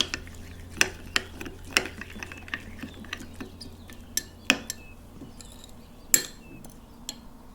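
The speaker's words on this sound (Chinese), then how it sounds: "搅拌均匀就好了。" A utensil clinks and scrapes against a bowl while a scallop sauce of fish sauce, lemon juice and sugar is stirred, giving sharp, irregular metallic taps spaced a second or so apart over a quiet background hum.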